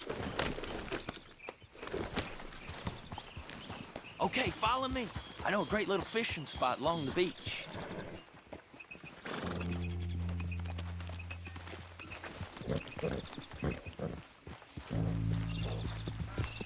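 Horse hooves clip-clop at a walk in the video game Red Dead Redemption 2, steady and fairly close, while people talk over them, with a brief snort or whinny and low ambient drones in the background.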